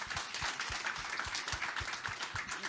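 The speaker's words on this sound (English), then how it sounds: "Round of applause for Andres, please." Audience applauding a food talk speaker, steady faint clapping from a crowd, distant and even for a few seconds.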